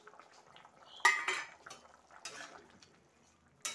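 Small pond fish going into a pot of curry with potatoes simmering on the stove, heard as a few sharp clinks of utensil against metal followed by soft splashing and bubbling, close by and fairly quiet.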